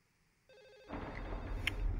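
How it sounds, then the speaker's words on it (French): Telephone ringing in the video game Silent Hill 4, a soft electronic ring tone that gives way to louder rumbling game ambience with a sharp high ding near the end. "putain de sonnerie de téléphone, ça m'avait manqué"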